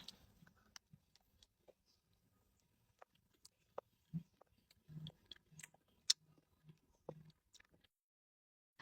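Soft, crisp bites and chewing on a Banana Society snack, heard as scattered small crunches and clicks close to the mic, alone and quiet with short pauses between mouthfuls.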